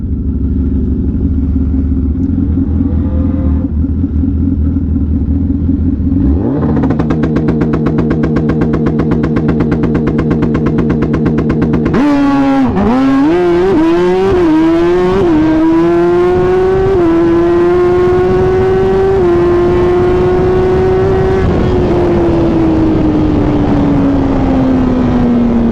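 A Suzuki Hayabusa motorcycle accelerating hard on a race track during a wheelie, its engine rising loud and close through several sharp gear changes before settling into a sustained high-revving drone.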